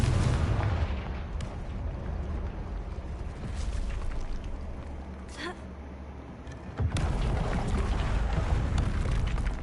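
Confringo fire spell blasting in Hogwarts Legacy, heard as a dense, roaring explosive rumble with a sharp burst midway and a renewed surge near the end.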